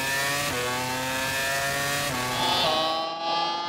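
A 2004 Renault F1 car with a V10 engine, driven by Fernando Alonso with traction control active, accelerates hard toward a corner, its high-pitched engine note rising steadily through gearshifts, loud and close.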